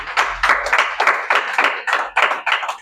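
A small group claps in a rhythmic, pulsing pattern during a business plan presentation, close and distinct with regular bursts about every half second.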